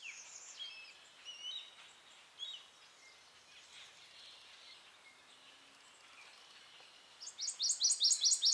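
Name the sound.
red-winged blackbirds and grackles calling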